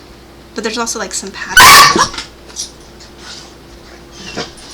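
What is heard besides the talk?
dog yelping after the cat nipped its face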